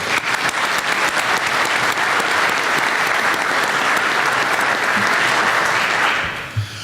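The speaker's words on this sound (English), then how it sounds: "So, Michael, big round of applause for you, sir." Audience applause at a pharmacy compounders' meeting on Capitol Hill: loud, dense clapping from a full room, sustained for several seconds and then tapering off abruptly.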